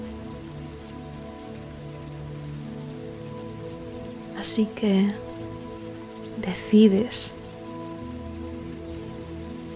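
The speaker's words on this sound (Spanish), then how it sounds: "dejar la lluvia caer en tus manos, intentando atrapar gotas en el aire" Steady rain falls throughout in a soft, even hiss, with a calm voice speaking twice over it during a guided mindfulness meditation.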